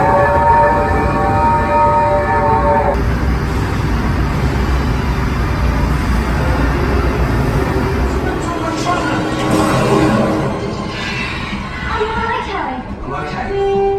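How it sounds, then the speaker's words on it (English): A train rumbles into a station at Universal Studios Orlando loudly and steadily, with a long horn-like tone early on and squealing brakes toward the end, voices faintly underneath. "We just got the train here."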